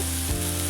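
Washed fenugreek leaves dropped into hot tempering oil for a Maharashtrian methi bhaji, giving a dense, continuous, close sizzle with a low hum underneath.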